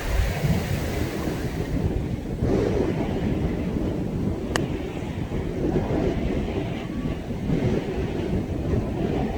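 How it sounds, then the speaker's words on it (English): Strong wind sweeping over a golf course, a loud continuous low roar and rumble buffeting the microphone throughout, with a faint brief tone partway through and no speech. "this wind is just nuts"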